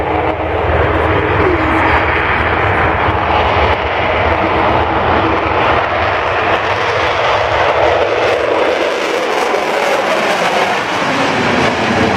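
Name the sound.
Avro Vulcan jet bomber taking off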